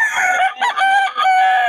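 Fighting-cock roosters crow loudly and close by, giving a couple of drawn-out, strained calls in quick succession with no talking over them.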